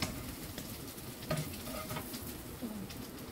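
Eggs frying in a pan, a soft steady sizzle and crackle of hot oil at low volume, with faint bird cooing in the background.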